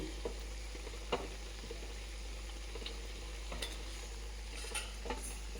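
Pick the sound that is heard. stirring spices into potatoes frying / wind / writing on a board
stirring spices into potatoes frying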